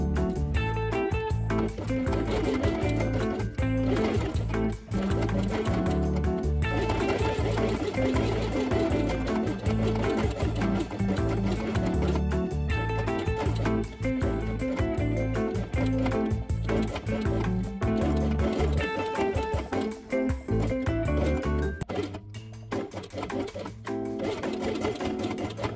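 A sewing machine stitching felt pieces along the edge with pink thread for a crab quiet book, a loud continuous rapid needle rhythm running close and steady for the whole stretch, with no talking.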